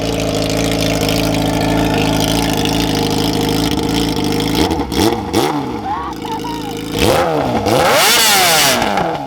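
A Yamaha YZF R6 sport bike fitted with a Tiger aftermarket exhaust, heard as a loud steady engine drone that breaks into several sharp rising revs near the end, with voices audible underneath.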